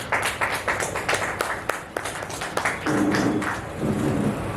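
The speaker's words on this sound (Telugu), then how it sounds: "అందరూ కూడా చప్పట్లు కొడతారు." A church audience at St Paul's Church claps to welcome guests onto the stage, a dense, close burst of many hands with sharp irregular slaps running throughout and swelling slightly near the end.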